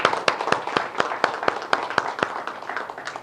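Applause from a seminar audience: brisk, crisp claps from a small group, fairly close and even in rhythm, holding steady for a few seconds before starting to thin out.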